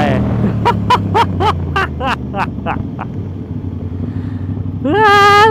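An Aprilia RS660 motorcycle with a new aftermarket exhaust fires off a quick series of sharp, loud rev blips and pops, then settles before a final rising rev; a voice speaks briefly alongside.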